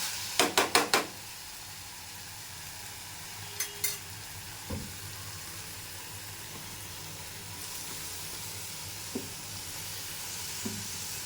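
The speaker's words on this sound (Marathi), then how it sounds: "आता टोमॅटो पण हे ना मॅश होईपर्यंत आपण तेलामध्ये परतून घेऊ." Tomatoes sizzle in hot oil in a pan for egg curry, a steady soft frying hiss broken by a few sharp clinks of a spoon against the pan early on and faint stirring taps later.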